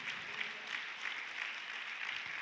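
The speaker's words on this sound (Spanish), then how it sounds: "Ahora puede aplaudir al Señor" A church congregation applauds during a sermon service. The clapping is faint and steady, like a distant, continuous patter across the room.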